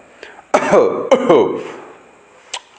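A performer at a comic show delivers deliberate, exaggerated coughs and throat clearing, loud close bursts in two main clusters with a short sharp cough near the end.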